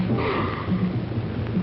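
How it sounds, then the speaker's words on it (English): A man sniffs flowers in a 1960 film scene: a few close, breathy sniffs and snorting inhales repeat unevenly. "will you stop sniffling the flowers"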